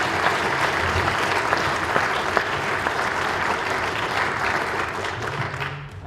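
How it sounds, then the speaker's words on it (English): A seated audience at a presentation session applauds the morning's speakers, a dense, sustained roar of many clapping hands that holds evenly for several seconds and thins slightly at the end. "first, a round of applause,"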